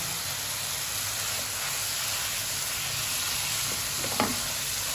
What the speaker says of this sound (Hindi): अब हम जाके इसमें प्याज ऐड करेंगे।